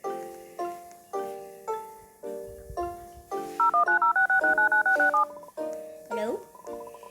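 Someone dials an emergency phone aboard an airplane: a string of close, clear keypad tones in a steady rhythm, including one rapid repeated run, with no one talking.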